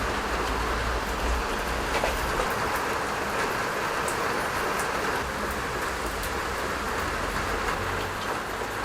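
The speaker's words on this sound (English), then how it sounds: "you can probably hear the rain coming down" Rain pours steadily outdoors beside a car detailing test panel, a loud, even hiss that stays constant without a break.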